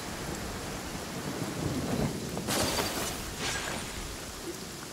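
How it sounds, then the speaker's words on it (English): Steady rain in Genshin Impact with a loud thunder crack and rumble midway, followed by a second rolling peal, under a constant wash of rainfall. "Let us find shelter from the rain."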